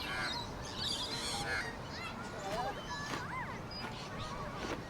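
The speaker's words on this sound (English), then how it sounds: "Australians call this bird a magpie." An Australian magpie, a city-dwelling bird, gives warbling, fluting calls that rise and fall in varied phrases over a steady background hiss, with speech-like busy texture throughout.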